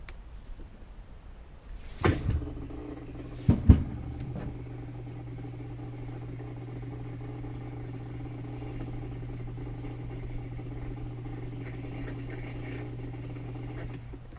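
A washing machine's drain pump starts during the drain and spin cycle, with a couple of close clunks followed by a steady low mechanical hum that continues evenly for over ten seconds.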